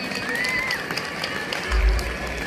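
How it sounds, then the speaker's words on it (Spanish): Outdoor crowd clapping for the act Plankton at a piromusical fireworks event in San Juan Nuevo, Michoacán, Mexico, a steady wash of applause with a brief low thump near the end. "Fuerte el aplauso por favor para Plankton."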